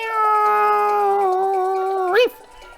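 A cat in The Legend of Zelda: Twilight Princess gives one drawn-out, clear meow lasting about two seconds, rising sharply into a short squeak at the end, loud and close with nothing else around it.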